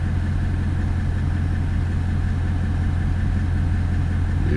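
A Toyota Land Cruiser 200 engine idles cold, a steady, even low rumble with a faint ticking texture, heard up close and alone for the whole stretch.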